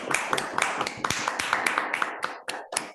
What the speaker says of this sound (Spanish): propongo que le demos un gran aplauso a Jan por la muy buena charla